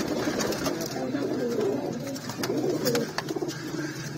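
Pigeons coo repeatedly in soft, throaty bursts, close by, with some faint background chatter and clatter.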